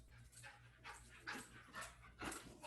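A dog pants and whimpers faintly indoors during an online office-hours session, with soft breathy puffs and thin whines recurring every half second or so and no talking.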